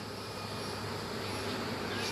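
Honeybees in an opened backyard hive, near a queen cell, give off a low, steady, even drone that stays at a constant level throughout with no voices over it.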